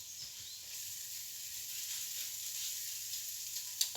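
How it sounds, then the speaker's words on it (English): Spices frying in a pan for an Indian spiced scrambled egg, giving a soft, steady hiss and crackle that stays faint throughout, with a small clink near the end. "Cook those spices out."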